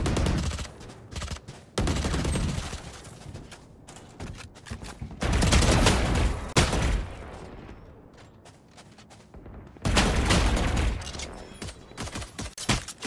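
Shotgun fire during a Valorant match comes in three loud clusters of heavy blasts, with quieter gaps between them and no talking.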